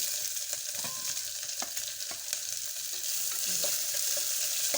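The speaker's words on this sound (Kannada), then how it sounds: "ಈಗ ಉಳ್ಳಾಗಡ್ಡಿ ಕರಿಬೇವು ಹಾಕ್ತೀನಿ." Onion and curry leaves dropped into hot oil after mustard seeds crackle and hiss in a dense, steady sizzle with scattered stirring taps, close and even throughout, no voices.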